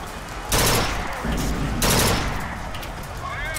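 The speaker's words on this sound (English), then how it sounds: "there's definitely a lot of shooting going on" Dense bursts of rapid gunfire in the video game BioShock Infinite rattle loudly in two long volleys, with a brief pause between them and a faint voice underneath.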